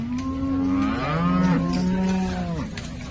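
A cow at a cattle market, about fifteen days from calving, gives one long, loud moo close by, rising and then falling in pitch over a few seconds.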